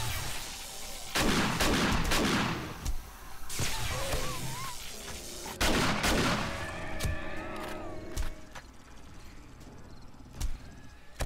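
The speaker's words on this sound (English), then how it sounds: "Hearing multiple explosions down below." Explosions go off in the 7 Days to Die video game during a horde attack, with several loud booming bursts and crackling gunfire-like hits spaced irregularly, and faint tonal game sounds between them.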